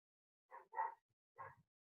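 Dogs bark a few short times in the distance, faint yaps in a quiet home setting with no other sound around them.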